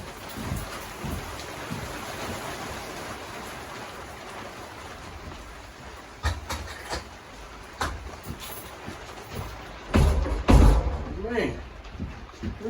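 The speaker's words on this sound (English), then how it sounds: "those are big raindrops" Big raindrops fall in a steady patter on surfaces, with sharper, louder splats and knocks toward the end.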